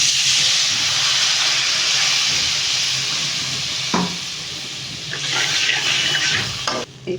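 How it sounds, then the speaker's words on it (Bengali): Fish curry gravy with a little chilli, turmeric and salt boiling in a pan, giving a loud, steady, close hiss and bubbling throughout with no talk, and a few brief knocks toward the end. "এই ঝোলটা ফুটে উঠেছে"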